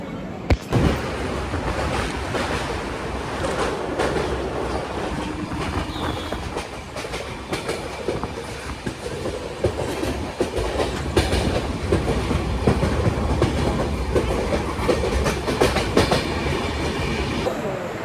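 Steady rumble and rhythmic clatter of a passenger train running on rails, heard from inside the carriage, loud and continuous throughout with a windy rushing wash and no talking.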